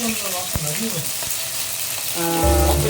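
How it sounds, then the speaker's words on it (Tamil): Curry leaves crackle and sizzle in hot oil with fennel seeds for a prawn curry, a steady frying hiss with a few sharp pops and stirring, growing louder toward the end as a voice talks over it. "அப்புறம் கொஞ்சோண்டு கருவேப்பிலை, இது போடுறேன்."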